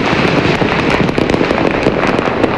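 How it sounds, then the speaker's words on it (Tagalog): New Year fireworks and firecrackers burst continuously in a loud, dense barrage of overlapping crackles and booms with no pauses. "Nagningning ang kalangitan kagabi dahil sa makukulay na fireworks bilang pagsalubong sa bagong taon."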